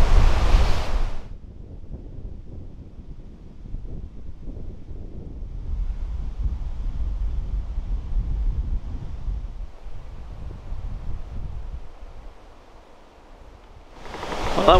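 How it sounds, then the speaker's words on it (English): Strong wind at a bush campsite roars and buffets the microphone in a heavy rumbling rush that swells and eases over several seconds, with louder gusts at the start and end, and no talk. "that wind's not doing a lot of letting up at the moment. It's still blowing, but yeah, you can probably hear it."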